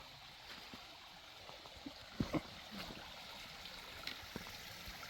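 Stream water trickling and gurgling along the Lumberjack Trail near Spruce Knob in West Virginia, a faint steady flow with a couple of brief splashy knocks midway.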